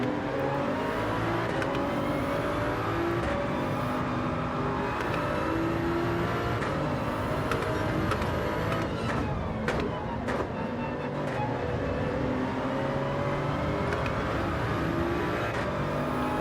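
Toyota Supra GR3 race car engines in Gran Turismo 7 at Interlagos drone steadily for the whole stretch, with shifting revs and several cars overlapping at a constant, loud level.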